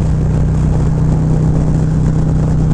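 A Harley-Davidson Road Glide motorcycle fitted with a Feuling 465 cam pulls hard in fourth gear, its deep steady engine drone loud and continuous throughout with no talking.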